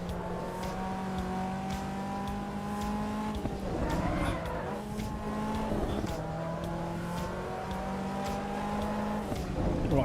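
Caterham sports car driven on cold tyres in the Assetto Corsa EVO racing game, its engine drone holding steady with shifting pitch and brief scrubbing bursts, loud and continuous with no talk.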